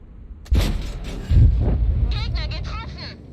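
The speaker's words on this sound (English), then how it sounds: "As long as we're seeing explosions, that means we're not hitting anything over there." Tank cannon fire and shell explosions in World of Tanks, played with a Leopard 1: two heavy booms about a second apart, followed by a fainter whistling, warbling tone as the echoes fade.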